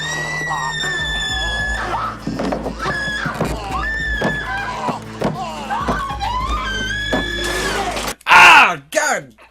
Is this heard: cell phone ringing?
no